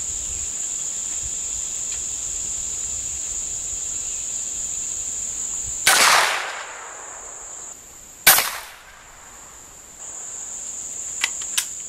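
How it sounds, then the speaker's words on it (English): A .22 Short rifle fires at a target 100 yards out, two sharp cracks several seconds apart, each ringing briefly over a constant loud chorus of crickets. "first shot, 22 short, 100 yards"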